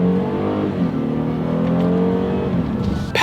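A 2017 Genesis G80 engine revs up and down through paddle-shifted gear changes, its harmonic drone rising and dropping in steady steps, close and continuous.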